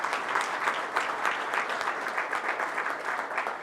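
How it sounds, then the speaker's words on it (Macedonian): A crowd claps and cheers in sustained, dense applause at a political rally in Negotino, fairly loud and unbroken from start to finish with no talking. "И ако некој заслужува аплауз, таа и колегите заслужуваат аплауз"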